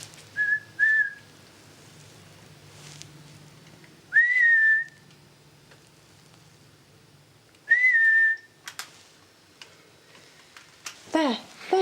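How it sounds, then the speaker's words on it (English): Whistling during a ghost hunt at Brinkburn Priory: three short, clear rising-then-steady whistles spaced apart in a quiet interior, with faint movement and murmured voices between them. "Whistle, whistle."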